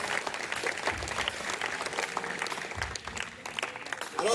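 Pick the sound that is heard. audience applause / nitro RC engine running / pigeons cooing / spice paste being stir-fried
audience applause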